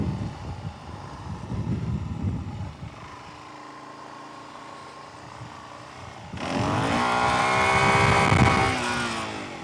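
Suzuki DRZ 400E dirt bike on a country road, engine buzzing under heavy wind rush, fading when the throttle is chopped, then surging again in a loud rising pull.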